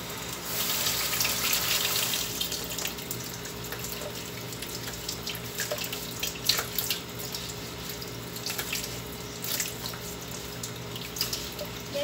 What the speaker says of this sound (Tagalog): So, need na natin siyang hugasan, need a sponge, and a potato.